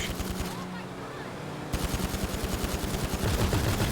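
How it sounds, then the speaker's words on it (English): Machine gun fire in GTA Online rattles in rapid automatic bursts, loud and continuous with a brief lull, then denser volleys of shots close by. "The only gunshots I like to hear are ones I've ordered."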